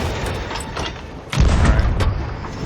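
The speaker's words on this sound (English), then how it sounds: "We're about to get nasty with a cannon." Cannon fire in the pirate video game Sea of Thieves: one heavy, close boom lands partway through, followed by a rumbling tail over a busy game soundscape.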